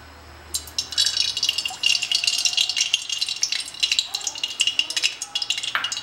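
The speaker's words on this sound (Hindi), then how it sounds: "ये चिकन फ्राई हो चुका है अब हम तेल को कड़े में डालेंगे" Oil going into a hot kadai while chilli chicken is being cooked gives a close, continuous crackling sizzle with bright rattling bursts that start about half a second in and keep going.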